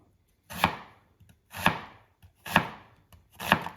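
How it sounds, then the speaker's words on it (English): A knife slices through a halved, peeled onion on a cutting board: four distinct crisp chopping strokes, evenly spaced about a second apart, close and alone without talk. "this is how we're just gonna do a simple slice on this"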